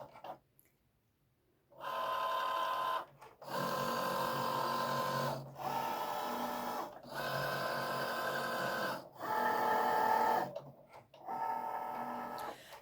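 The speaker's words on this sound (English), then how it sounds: "just click go, and now it will cut those two out for me." A Cricut Joy Xtra cutting machine works through card with a blade, a close mechanical whir and buzz in several sustained passes separated by short pauses as the carriage stops and repositions.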